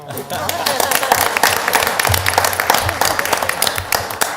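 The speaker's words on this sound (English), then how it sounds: "Give her a bigger round of applause" Loud, close applause at a city council meeting, a dense burst of many hands clapping continuously with a low voice or hum faintly underneath.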